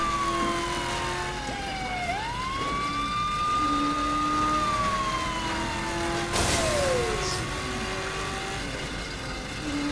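A police car siren in Saints Row: The Third wails in rising and falling sweeps over a steady engine drone, moving closer and then sliding away.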